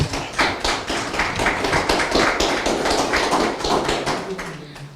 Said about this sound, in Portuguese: Forte aplauso para os candidatos.